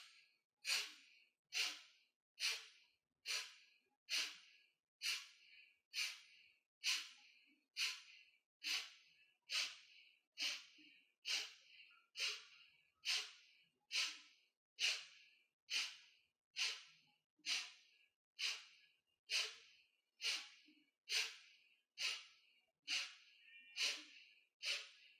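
Steady abdominal breathing during a morning yoga detox session: about twenty-two evenly spaced breaths, each a soft airy rush, repeating roughly once a second, close and alone with no talking.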